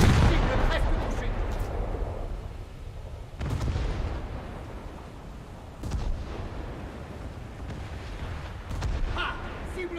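Naval guns of early French destroyers fire in a warship video game, four heavy booming salvos at uneven intervals, each trailing off into a long rumbling decay over a steady low background, loud and close.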